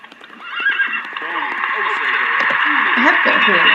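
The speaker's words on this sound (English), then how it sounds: "I have got a horse." A horse in The Sims 3 Pets whinnies loudly and close, with a long wavering neigh under game music, and a voice talking over it.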